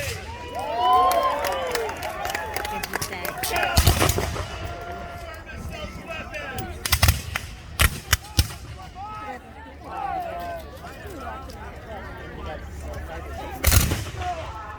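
Civil War reenactment musket volleys: several sharp cracks and bursts at separate moments, some sounding as clustered shots, with people talking and moving around them between the firing.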